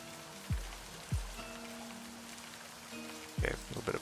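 Steady soft rain falls in a video game, a faint continuous hiss with a few low synthetic thumps and game tones layered over it, with no speech.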